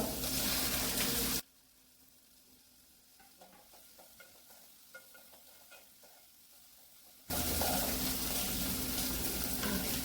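Chopped onion and tomato with a little cinnamon fry in oil in a pan for chicken rassa, a steady close sizzle with stirring, dropping to a much quieter stretch in the middle before the loud frying returns.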